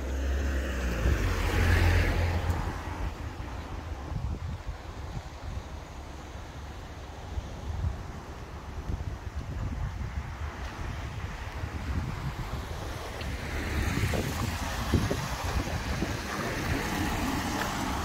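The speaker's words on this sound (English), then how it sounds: "Too much traffic around here, so you can't hear it." Road traffic passing nearby, a continuous rumbling wash of vehicles rising and falling, with a brief swell near the start and again toward the end, and some wind buffeting the microphone.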